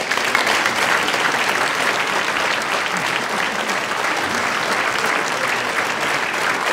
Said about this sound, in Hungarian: köszöntse nagy taps!